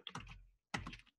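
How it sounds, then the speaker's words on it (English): Two short bursts of typing on a computer keyboard, quick clattering keystrokes close up and quiet, with no talking. "while I'm typing this out"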